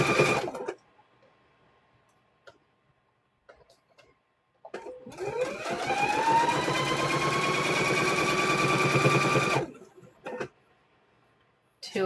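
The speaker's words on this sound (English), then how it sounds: "So we're gonna sew these." A sewing machine stitching quilt squares runs steadily for several seconds at close range, its motor whirring up in pitch, with short quiet pauses and brief talk around it.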